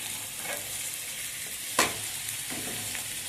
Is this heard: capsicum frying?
yes